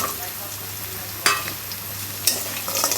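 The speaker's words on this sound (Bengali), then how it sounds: "পেঁয়াজ রসুন আর এই যে বড়িগুলো ভেজে নেব" Onion, garlic and pumpkin bori frying in hot oil with a continuous close sizzle, with two sharp scrapes of a spoon against the pan partway through.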